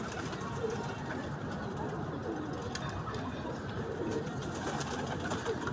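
Pigeons coo continuously and close by in a loft, a dense steady chorus of low burbling calls with faint rustling and pecking mixed in.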